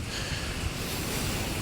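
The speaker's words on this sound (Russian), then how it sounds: "Но ветер страшнейший." Strong, cold wind on the Taman coast, paired with rain, roars loud and steady against the microphone. It is a dense, unbroken rush with heavy low buffeting and no voices.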